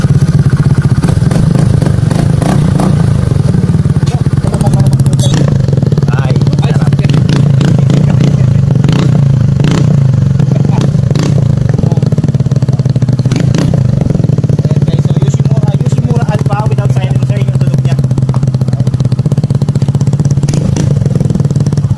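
A Suzuki Burgman scooter fitted with an aftermarket muffler idles and revs close by. A loud, steady low engine drone carries clattering bursts and sharp blips throughout, and people talk over it at times.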